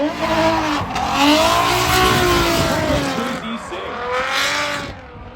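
A JZX90 race car with a carbon fiber hood roars around an oval track, its engine note rising and falling loudly as it passes close, with tire noise and faint commentary underneath.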